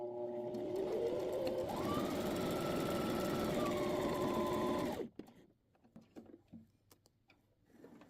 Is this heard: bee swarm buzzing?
no